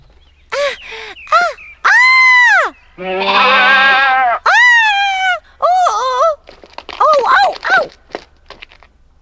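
Goat bleats rise and fall in several loud, wavering calls, close up, with a few short higher cries in between; no talking is heard.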